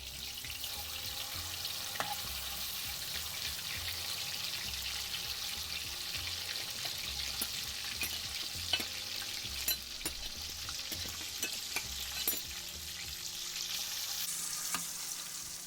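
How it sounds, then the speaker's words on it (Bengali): Marinated quail frying in hot oil give a soft, steady sizzle with scattered pops and crackles across the whole stretch, fairly quiet and with no talking. "এখন আমরা পাখিগুলোকে ভালো করে ভেজে নিব।"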